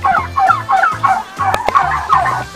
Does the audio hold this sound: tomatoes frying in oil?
no